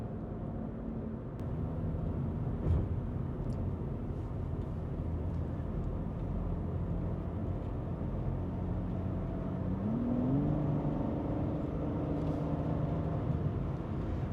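A BMW G8X M3/M4 with a DCE mid-pipe exhaust and its valves closed gives a steady, subdued low engine drone inside the cabin, with a slight rise in pitch near the end.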